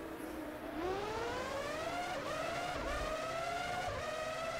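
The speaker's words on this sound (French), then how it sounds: "j'ai entendu une voiture sur le bas-côté" Formula One 03 on PS2, Canada round: a car's engine whines steadily, pitch rising through gears in repeated climbing sweeps, with continuous road and engine noise and no talk.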